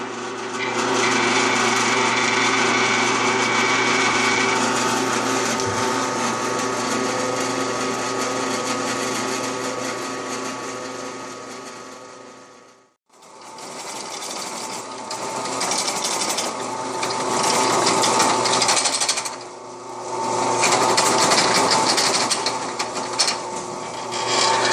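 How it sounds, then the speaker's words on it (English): A power drill boring holes for momentary switches in a 12V power management unit enclosure, running as a loud, steady high-pitched whine for about 13 seconds, a brief stop, then another long continuous run. "Alright, we're going to drill the holes for the momentary switches here."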